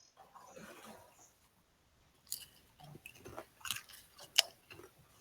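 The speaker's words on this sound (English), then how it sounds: "Did you guys just hear me chewing this entire time?" Someone chews food close to the microphone during a live tech stream, with irregular soft crunchy bites and mouth sounds in quick clusters after a brief pause, no talking.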